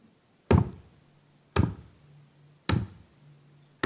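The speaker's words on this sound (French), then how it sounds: "sur la porte d'un habitant, il faisait entendre avec son poing ferme" A closed fist knocks firmly on a house door, three heavy single thuds spaced about a second apart, close and loud with quiet between each blow.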